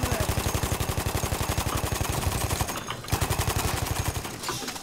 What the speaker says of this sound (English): I'm spraying bullets all over the place with this one.